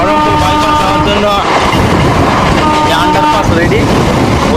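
A train runs along the Beldanga to Lalgola line, giving a loud, steady rolling rumble with strong wind noise and some tonal whines rising over it from start to finish.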